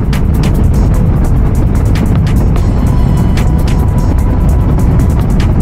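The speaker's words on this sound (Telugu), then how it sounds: "ఇంజన్ నాయిస్ కూడా బాగా ఎక్కువ వస్తుంది" A Royal Enfield Himalayan motorcycle engine runs loudly while riding, a continuous heavy low rumble with wind roar and sharp intermittent rattles throughout, no voices.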